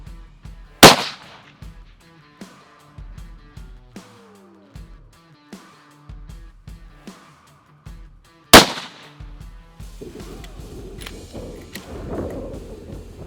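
Two sharp, loud cracks from a factory LA105 rifle fired at a target a mile away, spaced several seconds apart, each ringing out briefly, with quiet handling clicks and shuffling between them and a low rumble at the end.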